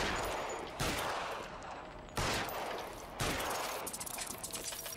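Gunfire from the video game L.A. Noire comes in three sharp, noisy volleys about a second apart, each followed by a fading wash of sound, at moderate level with no talking.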